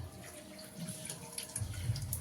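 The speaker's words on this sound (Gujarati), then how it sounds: "લ્યો લ્યો લ્યો ડોલ છલકી ગઈ. આજ તો પાણી આવ્યું છે સવારમાં." A bucket filling with tap water until it overflows, in a village home in the morning, gives a low, steady splashing and gurgling that swells louder in the last second, with faint dripping above it.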